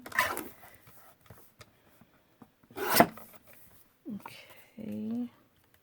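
Paper is trimmed down for a card pocket in a few short, separate rasping strokes. A louder cut comes near the middle, and brief speech-like sounds follow.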